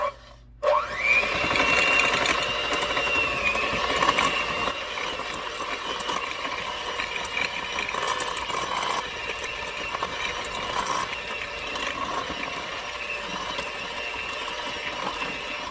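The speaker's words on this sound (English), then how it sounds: "now I am going to mix these together until it's fluffy" An electric mixer beats lemon pound cake batter until fluffy, whirring loud and steady after a brief start, its motor hum wavering slightly as the beaters work through the mixture.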